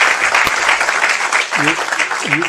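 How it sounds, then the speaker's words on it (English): An audience applauds a panel at a jury service discussion, a short burst of clapping with a voice speaking over it. "A big round of applause for the panel."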